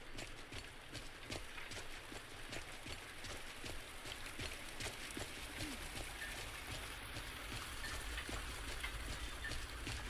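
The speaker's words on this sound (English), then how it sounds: "It's raining outside and it's so peaceful." Rain falls steadily outside, a soft, faint, even patter that continues throughout.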